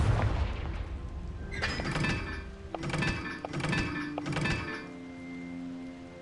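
Several Confringo blasting spells explode in the Hogwarts Legacy video game, four heavy thumping booms in quick succession with ringing tails, loud and close over a low background.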